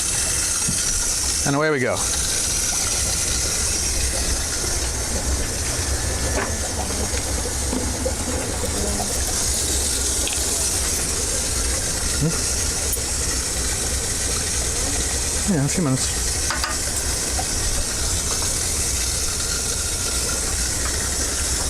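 Steady hiss of tap water runs continuously for an aquarium water change in a fish room, with brief talk and handling noises on top.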